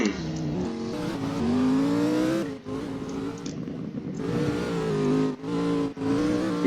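Engine revving and drifting in the Roblox game Southwest Florida Beta, a loud continuous whine that rises and falls with brief dips, heard alone without speech.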